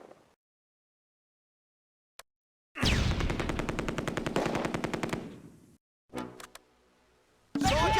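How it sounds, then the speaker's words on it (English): Heavy machine gun bursts in the World War II strategy game Close Combat, set in Arnhem: a long rapid rattling burst of about two and a half seconds, then a short burst and another starting, loud with silent gaps between. "The heavy machine gun and Granatwerfer squads try to dislodge the rifle section from the rail station."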